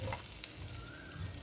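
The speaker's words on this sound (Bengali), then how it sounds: "মাছ ভাজা হয়ে গেছে, এবারে আমি মাছগুলো তুলে নেব।" Bhola fish fries in a pan with a continuous, moderately loud sizzle and soft crackling throughout the brief moment.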